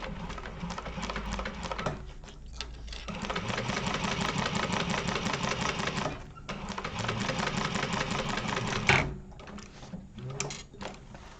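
A sewing machine basts the bottom seam of a Zip-N-Grip in a sewing class, whirring steadily in long runs with two brief pauses and a final short burst of stitching.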